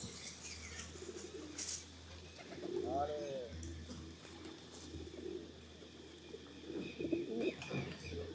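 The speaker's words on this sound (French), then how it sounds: "Pigeon." A pigeon coos briefly at Wat Umong temple in Chiang Mai, Thailand, fairly faint amid outdoor ambience, with people talking nearby.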